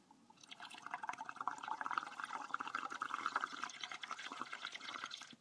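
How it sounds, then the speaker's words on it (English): Air blown through a straw into a liquid for bubble marble art, a continuous close bubbling and gurgling that swells and persists for several seconds, with no talking. "blowing it till all the bubbles come at the top of that"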